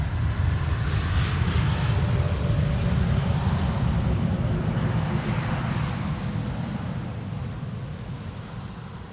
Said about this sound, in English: Idle reverse landing, bit disappointing.